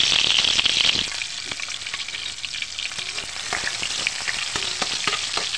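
Galunggong fish frying in hot oil in a heated pan, a loud, dense hiss and crackle that surges as the fish goes in, then settles into steady sizzling with scattered pops.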